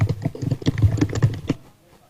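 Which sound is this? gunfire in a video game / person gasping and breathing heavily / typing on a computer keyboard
typing on a computer keyboard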